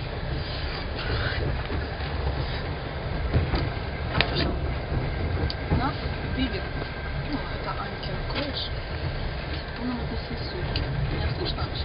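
Steady rumbling of a passenger train in motion on the way to Odessa, heard from inside the carriage with faint rail clatter throughout, while people talk nearby.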